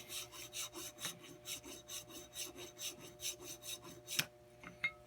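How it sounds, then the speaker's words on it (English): A hand file rasps across an aluminum UTG-style rail with a Cerakote finish on an AK-47 receiver, about twenty quick, evenly spaced strokes, close and clear, ending with a couple of sharp knocks. "your files will get clogged up with aluminum, and especially the Cerakote or whatever coating is on it"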